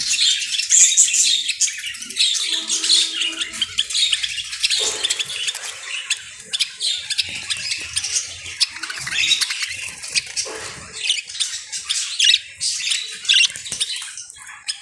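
Pet birds in a cage collection squawk and chirp rapidly and continuously, a busy, high, overlapping chatter close by with occasional louder squawks.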